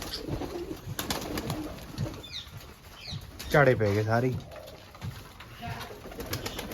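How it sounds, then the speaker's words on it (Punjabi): Pigeons in a backyard loft coo in a short, throaty burst near the middle, with faint wing flutters and other bird calls around it while someone talks over the scene. "ਲਓ ਵੀ ਕਬੂਤਰ ਨਿਕਲੇ ਸਾਰੇ ਬਾਹਰ"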